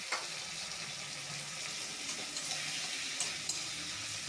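Potatoes and tomatoes stir-fry in mustard-poppy seed paste, a steady soft sizzle with light scraping and occasional faint clicks from stirring, close and unaccompanied by speech.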